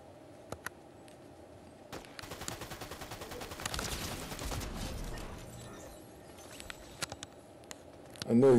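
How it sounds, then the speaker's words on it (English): Gunfire in the video game Fortnite during a solo match, a cluster of rapid shots building into a dense burst of fire mid-clip, with scattered single shots before and after and a loud thump at the end. "Is he shooting at me?"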